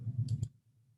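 A computer mouse gives a right click, two quick sharp clicks in close succession over a low electrical hum, close and fairly quiet.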